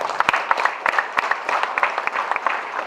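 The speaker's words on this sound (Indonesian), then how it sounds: "atau tepuk tangan yang meriah." Applause from the audience at a university rector's inauguration ceremony, with crisp, uneven individual claps close by, layered over a continuous clapping backdrop from a moderately sized crowd.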